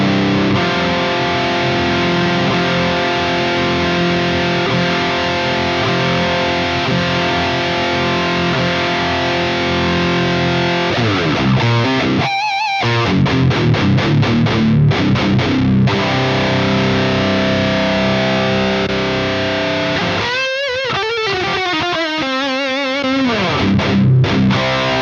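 Heavily distorted rhythm guitar through a Laney Ironheart IRT60H amp on its lead channel with the gain backed off, loud chugging riffs with sharp palm-muted stops and chopped silences, played alone.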